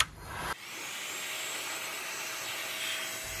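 Steady whine of a vacuum cleaner running inside an LS Nissan Patrol wagon, cleaning out the bare floor pan before sound deadening goes down. A loud, continuous drone sits close to the microphone after a brief start.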